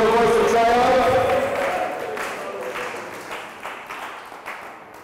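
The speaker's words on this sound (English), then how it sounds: "Clap your hands" A church congregation claps and shouts praise, a loud burst of crowd applause and voices that starts full and gradually fades over several seconds.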